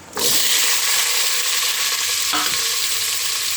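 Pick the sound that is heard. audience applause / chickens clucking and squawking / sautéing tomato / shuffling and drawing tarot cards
sautéing tomato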